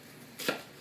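A single knife stroke slicing down through an onion toward the back, a short crisp cut standing out against quiet room tone with no talking.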